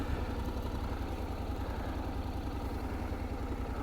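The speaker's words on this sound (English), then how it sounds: "Let's turn on the engine." A Honda Forza 750 scooter engine idles steadily nearby, a continuous low rumble with a fine rapid pulse and no voices.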